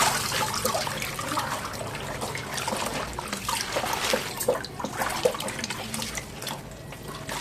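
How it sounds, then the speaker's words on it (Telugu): Continuous splashing and dripping water, close and fairly loud, as washed Malabar spinach leaves are lifted and drained from a filled container. "వాష్ చేసిన ఆకులన్నీ కూడా ఇలా అయితే తీసేసుకుందాం"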